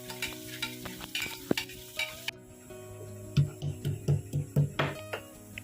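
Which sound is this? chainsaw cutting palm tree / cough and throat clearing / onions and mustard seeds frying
onions and mustard seeds frying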